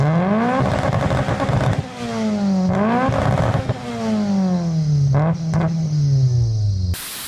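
A Mugen Accord SiR-T engine in Gran Turismo 2 revs up and down repeatedly, close and loud, with a high whining belt whistle rising and falling alongside each rev.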